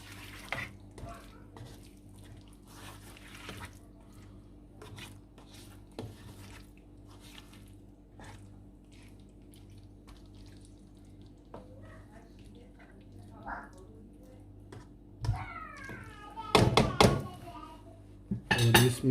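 Chicken karahi is stirred with coriander in a pot, with soft scraping and spoon clinks against the metal that grow louder and busier toward the end, while someone talks quietly at times.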